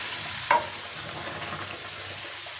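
Hot water is added to a sizzling semolina tempering for sabbakki soppu upma, giving a short splash followed by a steady sizzle and stirring in the pan, with no voices.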